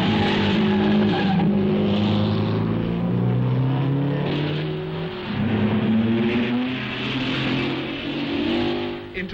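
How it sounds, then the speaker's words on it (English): 1950s Grand Prix racing cars roar past at speed, their loud engine howls rising and falling as one car after another passes the pits on the track. The roar is continuous and close, with no voices over it. "Hawthorne and Collins scream past the pits, straining every nerve, with Fangio snapping at their heels"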